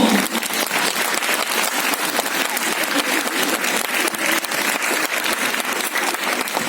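Lively applause fills a hall at a charity talent-show concert in a house of culture, with dense, crisp clapping from many hands sustained evenly and no talk over it.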